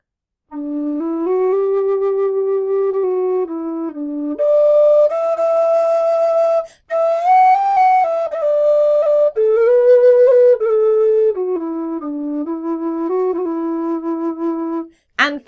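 A tin whistle plays a melody solo, with clear, pure sustained notes and smooth slides between pitches, close and fairly loud, interrupted once by a brief breath pause.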